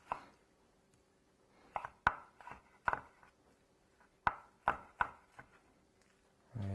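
A knife chops through peaches on a cutting board for salsa, with a series of crisp, irregular taps close by and quiet gaps between them.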